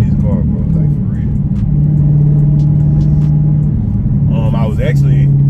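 Steady low engine rumble of a car on the move, continuous throughout, with a voice talking briefly near the end.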